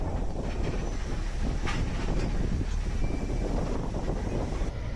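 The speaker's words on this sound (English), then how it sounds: "Right now, a train to Havana is pulling into the station." A long-distance train bound for Havana pulls into a Cuban station with a steady low rumble and rolling rail noise throughout, and faint wind in the background.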